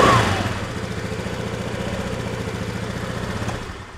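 A scooter's starter motor, wired straight to the battery with the starter relay bypassed, cranks the engine in a steady rapid chugging whir for about four seconds, close and moderately loud.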